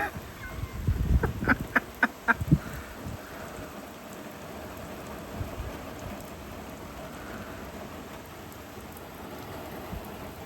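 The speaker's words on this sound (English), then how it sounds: "It's raining even harder." Heavy rain falls outside in June, a steady broad hiss of downpour throughout, with a few sharp close knocks and thuds early on before settling into a constant wash of rain.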